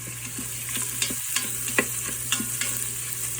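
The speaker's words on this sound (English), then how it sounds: "So we're just going to stir, stir, stir." Vegetables for a low-sodium potato and red lentil soup sizzle in an Instant Pot with a continuous frying hiss, while a spoon scrapes and knocks against the pot in an irregular stirring rhythm nearby.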